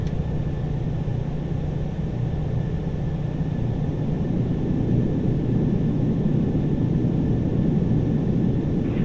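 A Boeing 747-400 takes off in a home flight simulator on the Anchorage leg, its engines giving a steady, loud broadband roar that holds without letting up, with no talking.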